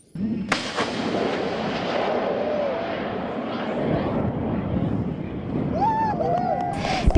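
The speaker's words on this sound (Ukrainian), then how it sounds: "Стріляють тут із важкої зенітної техніки." A loud rushing roar of an anti-aircraft missile launch at a military firing range fills the air and fades slightly, followed by a rising whistling streak, under wind buffeting on the microphone.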